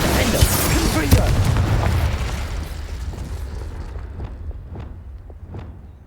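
In the Hogwarts Legacy video game, a Confringo spell goes off as a loud booming fiery blast. The rumble starts at once and then fades over several seconds, leaving faint ticks and crackles.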